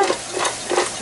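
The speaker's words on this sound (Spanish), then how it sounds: "Revuelven bien la jaiba." Crab is stirred in a frying pan for a Mexican chimpachole, a short burst of close scraping and sizzling in a few quick strokes.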